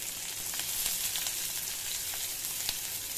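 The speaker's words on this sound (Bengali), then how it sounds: "হালকা করে এটা ভেজে নেব" Chopped garlic and onion fry in hot oil in a pan, a steady close sizzle with faint crackles and a few brief spits, continuous and even throughout.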